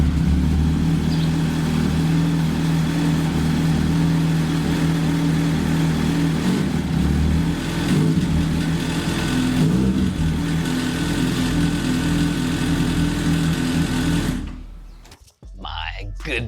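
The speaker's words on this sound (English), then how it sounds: "I just like the sound of the bikes" A heavy 1000cc motorcycle engine runs steadily and loud, its low rumbling drone held for about fourteen seconds before cutting off abruptly near the end.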